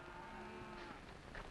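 Cattle lowing at a frontier trail-drive crossing, a sustained, fairly loud moo with a steady harmonic tone and no talk over it, set against a continuous background hum.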